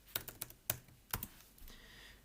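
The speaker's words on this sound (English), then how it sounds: "And let's type in the number that we used before" Keys tapped on a computer keyboard to enter a number, a quick cluster of sharp clicks that is close and clear, then a short quiet stretch.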